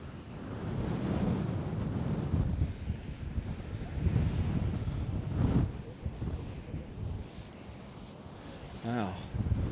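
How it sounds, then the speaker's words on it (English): Strong winter wind on the Coney Island beach rumbles across the microphone in rising and falling gusts, with surf noise beneath and a person speaking over it. "Ooh, that's like a fresh wind right there."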